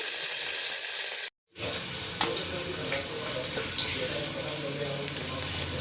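Onion and coriander sizzle in hot oil inside a pressure cooker, a loud, close, continuous frying hiss with small pops, briefly cut off near the start before resuming steadily.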